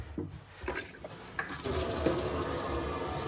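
Water runs from the tap of an Adria Twin 600 SPB campervan, fed by a pump: a few faint splashes first, then a steady loud gush pouring into the sink.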